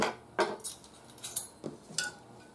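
Cutlery cutting garlic butter chicken pieces on a plate, a few distinct metallic scrapes and clinks spaced irregularly, close and fairly quiet.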